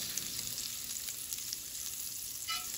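Butter sizzling in olive oil in a hot cast iron skillet, a steady close crackling fry that holds level throughout with no talk over it.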